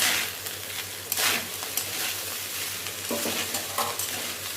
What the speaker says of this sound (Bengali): এবার সামান্য একটু ঘি দেব। দিয়ে ভালো করে নাড়াচাড়া করে নেব।